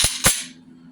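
Beretta Nano pistol having a round chambered: two sharp, close metallic clacks of the slide in quick succession, loud and brief, with a faint hum after and no talking.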